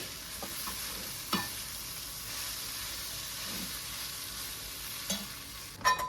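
A mixture is stirred in a hot pan. A soft, steady frying hiss carries a few light scrapes and taps of the spoon, quieter and then sharper near the end, with no voices.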